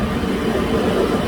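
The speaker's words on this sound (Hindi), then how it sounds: "मेट्रो आ गई है।" A Barcelona metro train pulls into the station with a steady low rumble and rolling rail noise, heard close and fairly loud without pauses.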